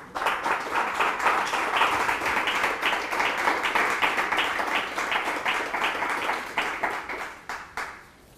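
Audience applause at a book presentation in Puig-reig for the novel Boulder: a steady wash of many hands clapping, fairly close and sustained, thinning out and fading over the last second or so.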